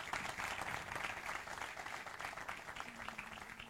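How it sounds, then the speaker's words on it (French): An audience at a leadership talk in Morocco applauding, a dense steady patter of many hands clapping at moderate volume, sustained throughout. "Et je vous demande d'applaudir ce charmant monsieur qui est là."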